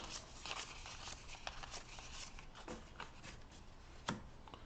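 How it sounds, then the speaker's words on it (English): Cards from a Legendary Marvel deck-building game are shuffled at a table, giving a few soft riffles and slaps with one sharper snap near the end, close and quiet. "This card, shuffle back up."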